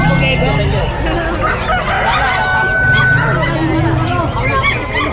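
Roosters crow and chickens cluck loudly at an animal market in Bocaue, mixed with busy crowd chatter and voices throughout.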